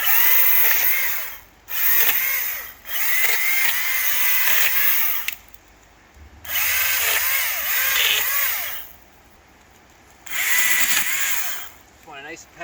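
An ECHO DCS-2500T 56v battery electric chainsaw cuts through a tree outdoors, whining loudly in repeated bursts of several seconds each, separated by brief pauses as the motor spins down.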